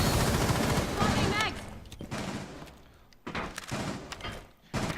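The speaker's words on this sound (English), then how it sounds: "he gets fragged by the Ash" Bursts of gunfire from a competitive shooter video game match rattle loudly and densely, then fade and return in shorter volleys, with a commentator's voice running underneath.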